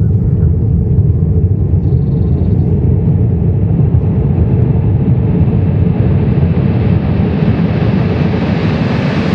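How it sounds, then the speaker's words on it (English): An ICE high-speed train bursts out of a tunnel with a loud, continuous jet-like roar and deep rumble that swells steadily as it rushes close past, with no voices. "ICE coming out of tunnel sounds like air jet is passing"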